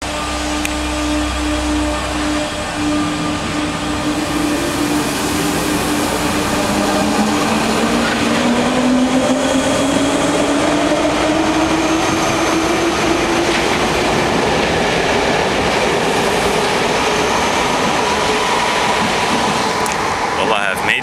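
A train carrying passengers from the airport into Paris, heard from inside. The loud, steady rumble and rattle of the carriages is joined by a rising whine from the motors as the train speeds up.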